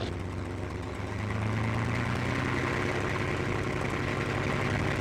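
A small aircraft engine is throttled up to about 1,400 RPM while taxiing, a steady droning propeller hum that swells slightly after a second and then holds even and close.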